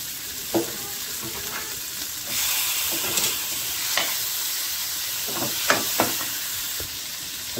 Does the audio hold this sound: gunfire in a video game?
no